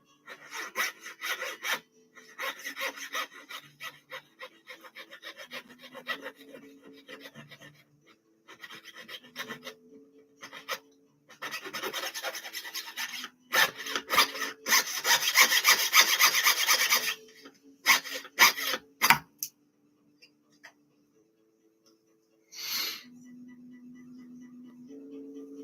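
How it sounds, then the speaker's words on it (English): A hand file rasping on wire during wire wrapping, in bursts of short strokes, with one longer sustained stretch of scraping, close by with pauses between. "I need to do a little bit of filing on that one."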